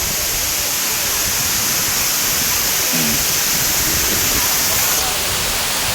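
Pradhanpat waterfall roaring, a loud, steady wash of falling water that fills the whole clip without a break.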